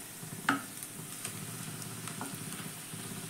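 Grated boiled potato is stirred into hot spices in a pan, giving a soft continuous sizzle with a spatula scrape and a few clinks against the pan. The sound is quiet and close, and nobody speaks.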